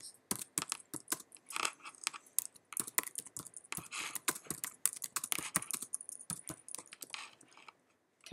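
Rapid, irregular clicks of someone typing on a computer keyboard, soft and close, in quick bursts with brief pauses, heard alone in a quiet room.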